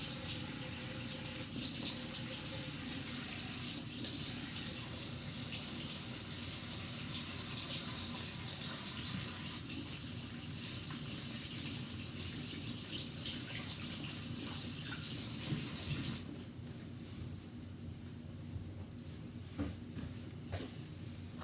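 A kitchen tap runs steadily for hands being washed after handling eggs, a soft continuous splash that drops quieter near the end, heard with no one talking.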